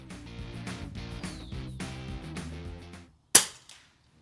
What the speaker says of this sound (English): Another dead center shot by Rudolph